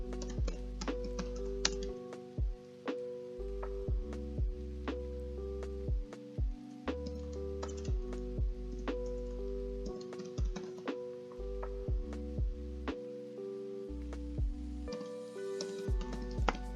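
Quick, light keystrokes on a computer keyboard tap out parents' names into an online application form, a steady run of soft clicks over a low background hum.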